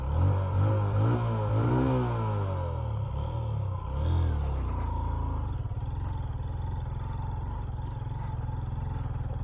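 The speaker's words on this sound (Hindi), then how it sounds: "असल में हाइट भी आ गई है ना, तो इस वजह से बाइक जोर नहीं पकड़ रहा।" A motorcycle engine labours and roars at high altitude in Basho Valley near Skardu, revving up unevenly then settling into a steady, strained drone without picking up power.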